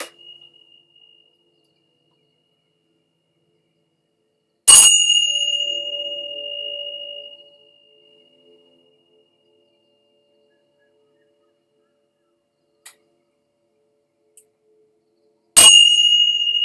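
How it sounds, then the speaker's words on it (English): Handheld bells struck twice about eleven seconds apart, each a bright, clear ding that rings on and slowly fades into an otherwise quiet room. "I'll ring my bells and then we shall begin."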